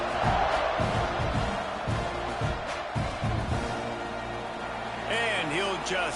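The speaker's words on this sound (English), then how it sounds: "this crowd is buzzing after that last score" Stadium crowd noise buzzing in a college football video game between Texas A&M and Clemson after a score, a steady broad roar with thumping beats underneath and a voice rising briefly near the end.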